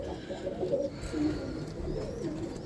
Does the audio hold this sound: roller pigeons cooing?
yes